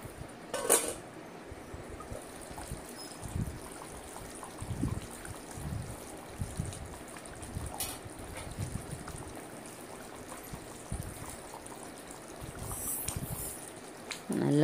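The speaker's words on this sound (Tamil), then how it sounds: "நல்லா கொதித்து மேலே எல்லாம் எண்ணெய் தேங்குதுங்க." Nellore fish curry boils in a pot with oil pooling on top, giving a steady, soft bubbling hiss throughout, with a few faint clinks near the start and end.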